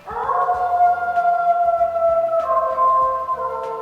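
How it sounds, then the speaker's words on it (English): A wolf in Yellowstone gives a long, clear, wavering howl, loud and unbroken for nearly four seconds and shifting pitch partway through, against quiet surroundings. "That is a wolf in Yellowstone"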